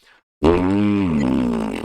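A voice imitates a fart noise with one loud, sustained buzzing blurt lasting over a second, starting abruptly after a brief quiet gap and wavering slightly in pitch before trailing off.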